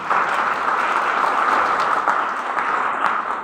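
Audience applause, a dense wash of many hands clapping at a steady level from start to finish.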